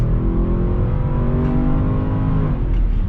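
A car engine revs loudly and steadily, its pitch climbing and falling slightly, heard close up with a continuous roar and no voices.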